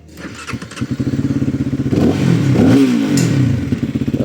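An RKS RK250S motorcycle engine cranks with rapid chugging pulses, catches, and revs briefly before dropping back to a quick, throbbing idle.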